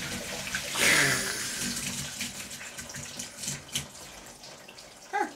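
Water rushing and draining out of an off-grid rainwater collection system, a loud gushing burst at first that settles into a steady nearby flow with gurgling, no talking over it.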